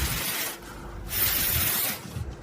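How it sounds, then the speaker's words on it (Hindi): Air blown by mouth through a leaking, broken car solenoid valve gives two breathy hissing bursts separated by a brief pause, close and fairly loud. "धीरे धीरे फूंक मारें। अगर यह हवा लीक करता है तो इसका मतलब है कि यह टूट गया है"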